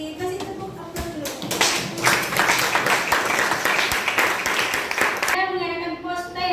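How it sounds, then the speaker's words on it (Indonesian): A classroom of students clapping together after a lesson on the Wali Songo, a steady burst of applause with some voices talking through it, then fading out near the end. "Kasih tepuk tangan dulu."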